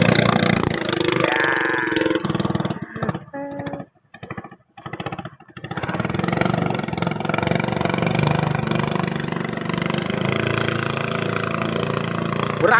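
An alloy racing boat engine is test-run, roaring loudly and steadily, then breaking into several sharp, choppy cut-outs before settling back into a continuous high-revving drone.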